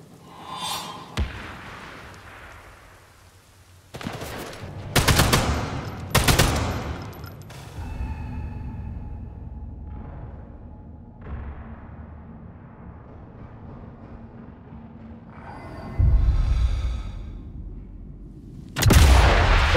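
An MG42 machine gun fires in Sniper Elite 5, heavy bursts and sharp shots separated by quieter stretches of ambient game noise, loud and close, with no talking.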